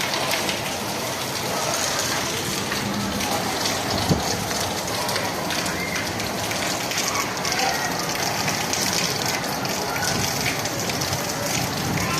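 Steady, heavy rain pouring down without a break, a dense hiss of drops hitting surfaces nearby.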